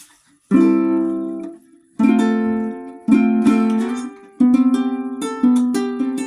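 Ukulele chords in low G tuning strummed one after another, each ringing out warmly before the next, about six strums with brief pauses between.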